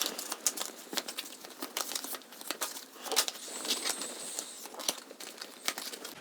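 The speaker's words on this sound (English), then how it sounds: "First thing that we will do for day number 3 is we will shuffle the cards." Rapid papery crackling and flicking of playing cards being shuffled for the board game Eila and Something Shiny, close up and continuous, with quick riffles and rustles and no voices.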